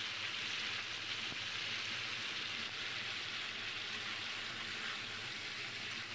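Eggplant pieces fry in a pan of khoyra hilsa fish curry, giving a steady, even sizzle that holds without a break from start to finish.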